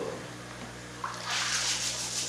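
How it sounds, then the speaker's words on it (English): Water running and splashing as an aquarium filter sponge is rinsed while cleaning a flowerhorn tank, a steady close wash that swells louder in the second half. "Just give it a little rinse"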